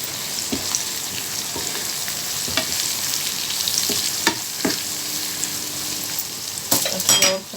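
Red lentil dal being stirred and fried in a pan with a pinch of salt, a steady hiss of sizzling with intermittent scraping stir strokes, close and continuous.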